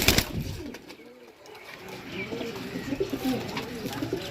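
Pigeons coo softly and repeatedly nearby, low rolling calls overlapping one another against a quiet background.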